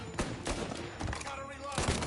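Video game gunfire, a quick run of rapid shots and thumps at moderate level, with faint game sounds in between.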